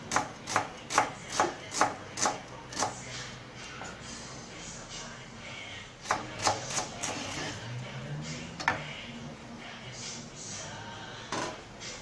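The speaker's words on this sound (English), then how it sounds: "Divide the shallots into two. Then slice them thinly." A knife slices shallots thinly on a cutting board in quick, evenly spaced chops, a rapid run of about eight near and fairly crisp cuts, a pause, then a few more strokes.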